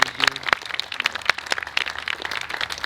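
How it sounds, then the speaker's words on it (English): An audience claps for the co-chairs at a Mesa County Democrats gathering. The applause is sparse and uneven, made of scattered individual claps rather than a full ovation, and sounds fairly close. "Let's give them a round of applause."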